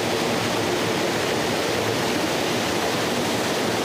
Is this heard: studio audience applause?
no